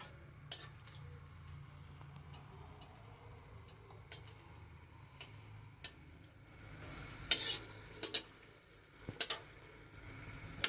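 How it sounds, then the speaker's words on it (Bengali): Dried red chillies fry in hot smoking oil for a pineapple preserve: a faint, quiet sizzle broken by scattered sharp crackles and pops that grow more frequent toward the end, with no talking. "এবার আমি তেলে শুকনো লঙ্কা ভাজছি, দেখুন।"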